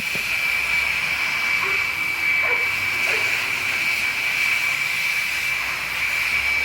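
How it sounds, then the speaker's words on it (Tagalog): A compressed-air blower hisses steadily and loudly while drying a cleaned fuel pump from a Toyota Hilux in a workshop, with one unbroken rushing tone that does not change. "blower din ulit. Make sure tuyong-tuyo siya bago na ibalik."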